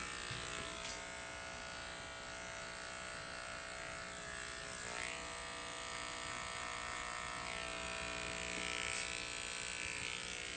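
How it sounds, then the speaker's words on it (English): An electric hair trimmer buzzes steadily while cutting a man's hair around the ear at home, a close, continuous high whine with slight shifts in pitch as it moves, and no talk. "take your trimmer up and clean it up"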